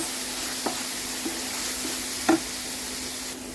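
A few scattered scrapes and clinks of a utensil stirring food in a pan over a soft background sizzle, with one louder knock near the end.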